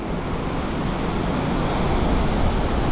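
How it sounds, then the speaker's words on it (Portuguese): Rough, choppy sea surf at Tamandaré beach, a steady broadband wash of breaking waves mixed with wind, loud and continuous throughout with no voices. "E aqui o mar já é mais agitado um pouco"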